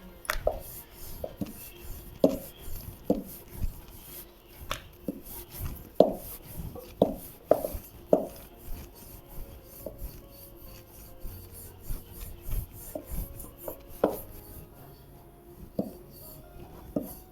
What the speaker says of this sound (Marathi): पीठ लावूनच छान लाटून होतं आहे